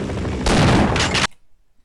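Gunfire in the video game Half-Life: Azure Sheep: a loud, dense burst of rapid shots lasting under a second, then cutting off abruptly into near silence.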